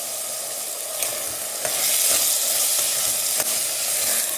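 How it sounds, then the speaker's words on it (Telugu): Ivy gourd slices, chana dal and onion frying in oil, a loud close sizzle that swells midway, punctuated by several spatula scrapes and taps against the pan. "ఇవి కొంచెం ఆయిల్లో ఫ్రై అవ్వాలన్నమాట. దొండకాయ, శనగపప్పు, ఆనియన్ అన్నీ కూడా."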